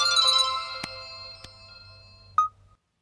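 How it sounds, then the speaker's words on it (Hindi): A phone rings with a steady electronic ringtone melody, loud and close, tapering off before a short final tone and silence, with no one speaking. "फोन"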